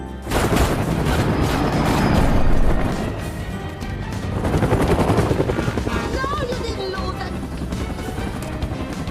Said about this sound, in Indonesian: Hingga muncul helikopter yang menembaki mereka